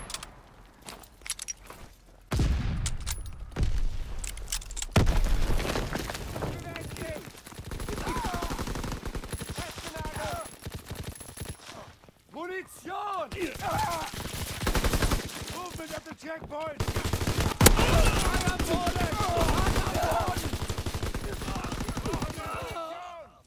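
Rapid bursts of gunfire crackle through a Call of Duty WWII battle, machine-gun fire and single shots coming in waves over shouting voices, with short lulls between volleys.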